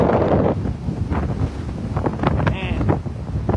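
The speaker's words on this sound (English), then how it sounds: "look at the waves out there" Strong tropical storm wind buffets the microphone over breaking surf on the Treasure Coast shore, a steady loud roar with gusts rising and falling throughout.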